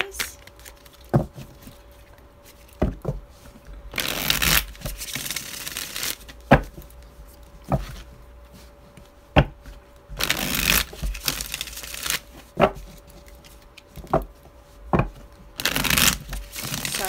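Tarot cards are shuffled close by in repeated bursts of crisp riffling and flapping, with sharp taps and brief quiet pauses between rounds.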